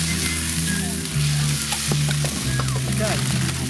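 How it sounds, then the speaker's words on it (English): Vegetables stir-frying in a hot pan with ginger and garlic, a loud continuous sizzle with stirring and scraping, close up, with faint music or a voice underneath. "Stir fry veggies."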